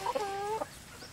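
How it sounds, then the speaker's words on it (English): A chicken that has just caught a frog clucks in a short, close run of squawky notes, then goes quiet against a soft outdoor background. "oh, my chicken got a frog."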